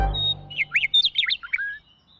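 Birds near a scarecrow chirp in a rapid run of bright, warbling tweets after a brief low thump, loud and close, fading out at the end.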